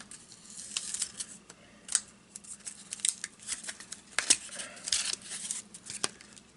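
Brown packing tape being pulled and torn off a cardboard care package, with irregular short ripping and crinkling bursts close to the microphone, fairly quiet and without speech.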